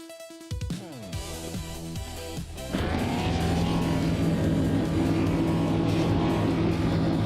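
Racing cars roaring around a figure 8 track in a video game. Engines rev and shift with rising and falling pitch, then a dense, loud wall of several motors running together that continues steadily.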